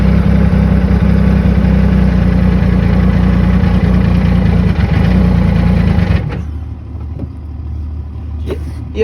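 A 2020 Yamaha YXZ1000r side-by-side fitted with a GYTR turbo kit runs with a loud, heavy engine drone under throttle, then drops abruptly to a quieter idle with faint clicks near the end; no talking.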